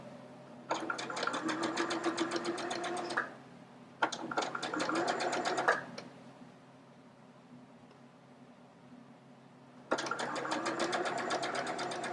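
A sewing machine stitches a seam around a V-neck neckline in three steady bursts of rapid mechanical whirring, separated by short pauses with a faint hum underneath.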